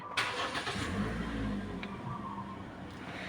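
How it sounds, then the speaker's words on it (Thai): A 2018 Toyota Altis starts with a push button: a quick crank catches into a brief rev, then drops to a quiet, steady idle heard from inside the car. "มาเหยียบเบรกกดปุ่มสตาร์ทค่ะ"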